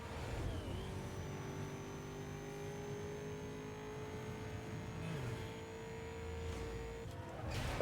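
A sports car in the 2005 video game Need for Speed Most Wanted, its engine whining steadily upward as it accelerates, with pitch drops at gear shifts, fairly quiet and without talk.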